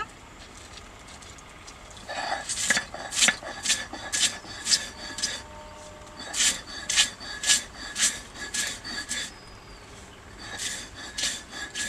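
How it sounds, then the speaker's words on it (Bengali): Toast biscuits crushed on a stone grinding slab (shil), with bursts of dry rasping, rubbing strokes in quick rhythmic runs, close and fairly loud, pausing between sets. "প্রথমে আমি বিস্কুটটা শিলে গুঁড়া করে নিব"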